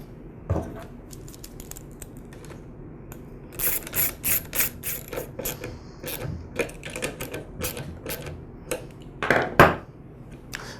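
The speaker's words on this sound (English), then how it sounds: "I'll resecure the air filter base and the carburetor with the nuts." Nuts are tightened on the air filter base and carburetor of a Ryobi handheld gas blower, producing close, irregular ratcheting clicks in short bursts separated by quiet pauses, with no talk.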